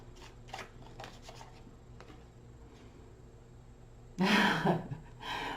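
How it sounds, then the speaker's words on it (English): Soft riffling of a card deck being shuffled in quick bursts, ending with a louder, brisk shuffle close by. "Off the top of the deck, one more shuffle."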